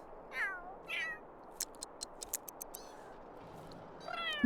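Two cats in a Sims 3 video game meow back and forth in short, close calls. Quick light clicks sound between the meows over a faint background.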